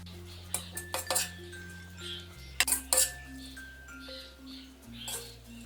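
Vegetable fried rice being moved from the pan into a serving dish, heard as a few sharp metal spoon clinks and scrapes against cookware, close and fairly clear, with scattered lighter taps in between and a steady hum beneath.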